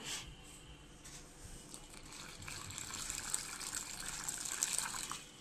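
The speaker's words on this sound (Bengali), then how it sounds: "এখন আমি এখানে যেটা দিব সেটা হলো পানি" Water is poured into a bowl of mixed rice flour for batter, a soft gushing pour that builds slightly louder toward the end, close and quiet with no talk.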